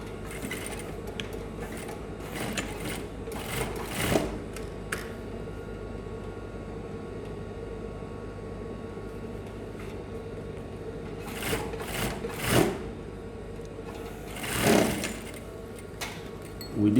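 A sewing machine stitches a graduation hoodie hem in a low, steady hum. The hum is broken by several louder bursts of motor whir that come and go.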